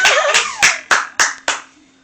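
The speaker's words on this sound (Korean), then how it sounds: "박수 박수." A child's hands clap six times at home, sharp close slaps at a steady, slightly slowing pace, each followed by a short ring with quiet room sound beneath.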